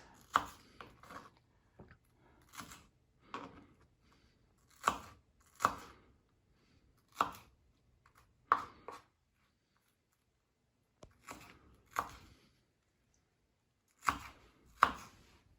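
A knife chops onions on a cutting board in slow, uneven strokes, single and double knocks separated by short pauses, close and clear.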